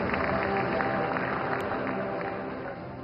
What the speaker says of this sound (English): Let's give a round of applause for all our friends from North America.